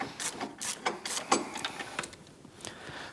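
On a Yamaha YXZ1000 side-by-side, a ball joint nut is tightened into the steering knuckle, making a close run of quick irregular ratcheting clicks and scrapes at moderate level, with no voices.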